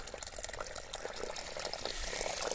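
Mountain spring water runs along a makeshift channel and pours into a can, a steady close splashing flow that grows slightly stronger, with no voices.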